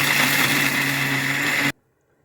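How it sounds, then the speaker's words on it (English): A kitchen blender runs dry on peppers and crayfish with no water, a loud, steady whirring motor drone that cuts off abruptly into silence. "I'll be blending all this together without water because my blender can take both wet and dry."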